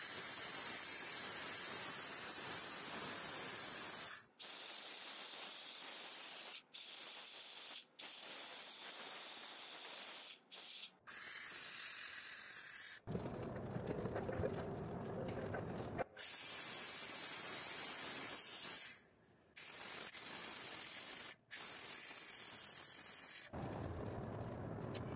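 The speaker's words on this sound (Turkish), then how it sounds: "Şimdi buhar çıkartırken çok yüksek ses çıkartıyor." Steam cleaner blasting pressurized steam over a car engine during engine cleaning, a loud continuous hissing spray in long bursts with brief pauses between them, near and with no talking.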